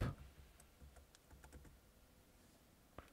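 Keys tapped on a computer keyboard while entering a filter name in video editing software, a few quiet, irregular clicks spread over a few seconds, faint and close, with one sharper keystroke near the end.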